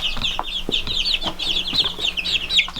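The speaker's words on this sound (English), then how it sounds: "the other half of the standard buff Orpingtons are in this brooder" Standard buff Orpington chicks in a brooder make a steady chorus of high, overlapping peeps with a few soft clucks, close by, with no talking.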